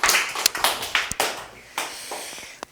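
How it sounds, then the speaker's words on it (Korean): Listeners at a lecture clap by hand, giving a handful of irregular, close claps and taps that fade out with a final isolated clap near the end. "박수 칩시다"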